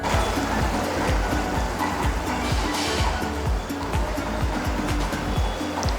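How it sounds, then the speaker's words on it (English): Water boiling in a pot for diced potatoes gives a steady, close rush of bubbling with rapid rhythmic popping, loud and continuous, with no talking. "Now, as you can see, the water started to boil."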